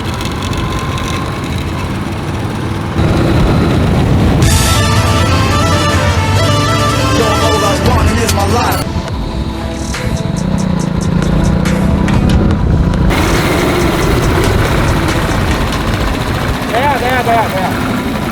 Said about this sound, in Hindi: तो बाइक स्टार्ट हो गई। अब देखते हैं कितना दूर तक जाती है।